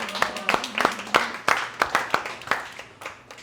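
A small crowd at a community networking mixer claps in scattered, distinct hand claps that gradually thin out, with a faint murmur of voices underneath.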